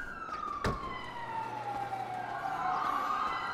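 Police siren wailing during a chase in a video game, one long descending-then-rising tone over a low vehicle hum, with a sharp thump near the start.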